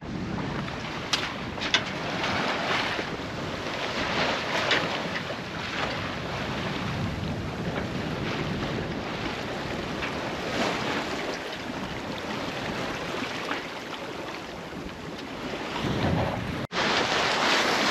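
A sailboat under sail at sea in a light breeze, on a passage from Palermo to Vulcano, with steady wind buffeting and water rushing along the hull, continuous and fairly loud, no talking.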